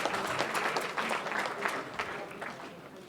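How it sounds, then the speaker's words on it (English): Rally crowd in Detroit applauding in a dense, sustained round of clapping that swells then gradually tapers, loud and close with scattered claps standing out, without speech over it. "I would like to dedicate that applause"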